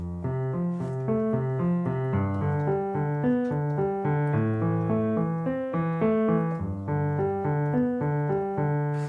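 Piano plays a short flowing melody over low chords, notes overlapping in an even rhythm, close and moderately loud.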